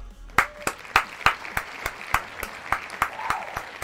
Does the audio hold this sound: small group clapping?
yes